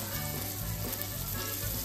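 Pieces of surmai fish fry in a pan, giving a brief, dense, even sizzle heard up close with no voices.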